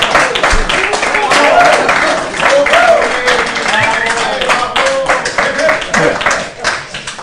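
Live audience applause at a talk on climate change: a lively, sustained round of sharp, closely spaced claps lasting several seconds, with voices and murmurs mixed through the clapping.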